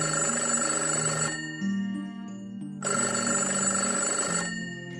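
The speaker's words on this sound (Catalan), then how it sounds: "Quan va tenir l'invent llest, va trucar al papa preocupat per telèfon" A telephone rings in two long electronic trills separated by a short silence, steady and fairly loud, with no speech over it.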